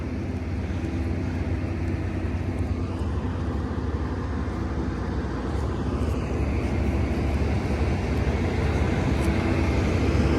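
Steady, loud engine roar with a low rumble throughout from a small propeller plane running nearby at a small airport, no voices.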